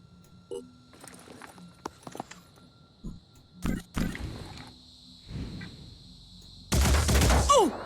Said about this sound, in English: We can get Varun to take a couple of shots.